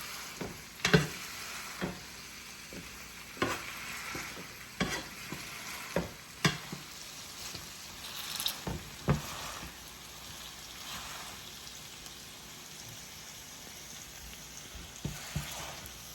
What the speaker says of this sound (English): smush these down so that they split open. And they get good contact with the hot olive oil and the garlic and the onions